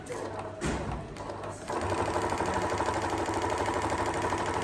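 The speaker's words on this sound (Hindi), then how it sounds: "सीधी सिलाई पे आके मशीन यहाँ से मशीन स्टार्ट होती है।" A Juki sewing machine set to straight stitch starts up and runs steadily, a continuous rapid mechanical hum and rattle that grows louder after a few initial clicks and bumps.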